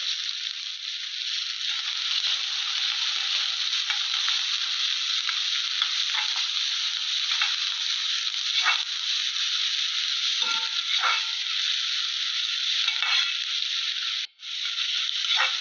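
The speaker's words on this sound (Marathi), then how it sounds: "तेल गरम झालेला आहे आता त्यात बारीक चिरलेला कांदा घालून तो चांगल्या प्रकारे परतून घ्यावा" Finely chopped onion frying in hot oil while being stirred, a loud, continuous close-up sizzle with occasional crackles and a brief dip near the end.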